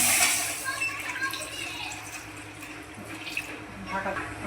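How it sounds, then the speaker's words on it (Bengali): Water poured from a vessel into a pan set over a gas flame for steaming, a steady running splash that lasts throughout at moderate loudness. "আমি এটা আমি দিয়ে দিলাম জল"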